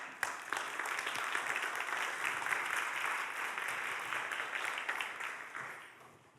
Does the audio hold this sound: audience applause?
yes